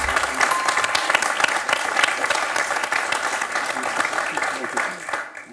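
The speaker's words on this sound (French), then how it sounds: "chaleureusement applaudi, notamment par ses amis" Studio audience at a French television quiz show applauds a contestant warmly, a brisk, dense round of clapping lasting several seconds before fading out.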